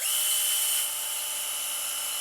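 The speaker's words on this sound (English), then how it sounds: "Go ahead with the drill." Power drill priming an engine's oil pump, a steady high-pitched whining spin that runs continuously and fairly loud throughout, easing slightly in pitch after the first second, with no talking over it.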